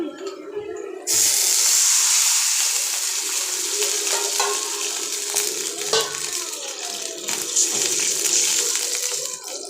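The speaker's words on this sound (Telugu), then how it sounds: "ఇప్పుడు వచ్చేసి నేను నాలుగు గ్లాసులు వాటర్ పోస్తాను" Four glasses of water poured into a pot while making upma, a sudden loud, steady gush that starts after a brief moment and runs continuously, with faint clinks in the background.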